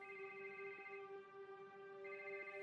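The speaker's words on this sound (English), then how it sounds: "When the phone finally rang, Maricela jumped to answer it" A telephone rings with a steady electronic tone, its sustained harmonic ring pausing briefly and then resuming, heard fairly faint and alone in a quiet room.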